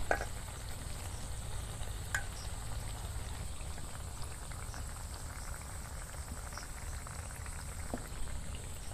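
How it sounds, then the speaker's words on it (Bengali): Onion and curd pakoras deep frying in hot oil, made without gram flour, give a steady, dense bubbling sizzle throughout with a couple of faint clinks near the start. "এক পিঠ লাল করে ভাজা হয়ে গেছে, উল্টে দেবো এবার"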